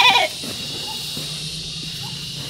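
A goat gives one short, fairly loud bleat right at the start, then only a low, steady background hum remains.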